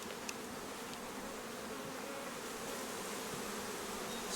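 A dense, steady hum of many honeybees buzzing together at an open hive during an inspection, constant and close, with no other sounds breaking through.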